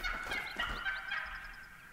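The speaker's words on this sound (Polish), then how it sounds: "Indyk się odezwał." A wild turkey gobbles during a turkey hunt at Mississippi Acres Preserve in theHunter: Call of the Wild. The bird's rapid, warbling calls come fairly loud and clear over a faint ambient background, with no talking.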